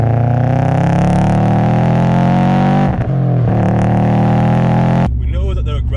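A 2005 Subaru Impreza WRX STi Type UK widetrack blobeye holds a loud, steady engine note with a brief dip near three seconds, then idles lower while a person talks over it at the end.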